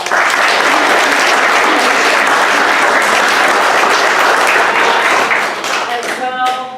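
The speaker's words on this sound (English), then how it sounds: "Let's give them a round of applause." An audience at a SpringFest student storytelling event at the Western Stage applauds the parents: loud, sustained clapping from a crowd that holds steady, then tapers off near the end.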